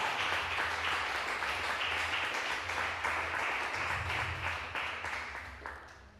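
A church congregation applauds steadily, many hands clapping in a dense, even wash that holds strong for several seconds before tapering off toward the end.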